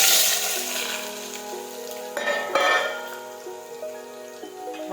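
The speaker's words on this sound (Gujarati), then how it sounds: "હવે આપણું તેલ છે તે ગરમ થઈ ગયું છે। હવે આપણે તેમાં રાઈ અને જીરું નાખી દઈશું।" Mustard seeds and cumin go into hot oil, with potatoes added for a pea and potato curry. The oil sizzles and crackles steadily at close range, fairly quiet, and no one speaks.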